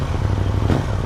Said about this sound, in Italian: andiamo all'accensione, sentirete subito il ground sound che ha questa moto